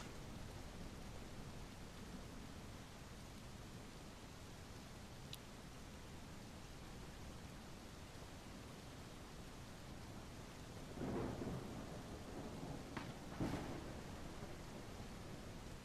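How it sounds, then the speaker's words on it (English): Thunderstorm in the video game The Isle, with steady rain-like noise throughout and two or three loud thunder cracks near the end, no talking. "That lightning was loud AF."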